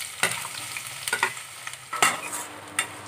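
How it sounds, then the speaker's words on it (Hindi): Onion slices frying in hot oil in a kadai for chicken dum biryani, with a steady close sizzle and several sharp stirring scrapes spread through the sound. "ऑयल हमारा गर्म हो गया है, तो सबसे पहले हम ओनियन फ्राई कर लेते हैं।"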